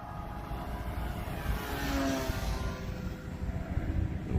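A radio-controlled Tower Mustang model airplane flies laps at steady throttle, its engine drone continuous and moderately distant, swelling slightly as it passes.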